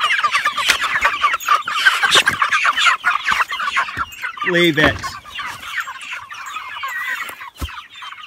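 Dense, continuous clucking and squawking from many chickens nearby, with a brief short spoken remark partway through.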